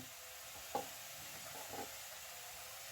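Chopped leeks and onions sauté in oil in a pot, making a faint, steady sizzle with a couple of soft stirring clicks and no voices.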